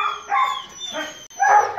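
A hunting dog, a female going out on her first wild boar hunt, gives a few short barks and yips in close succession, fairly loud and near, with brief gaps between them.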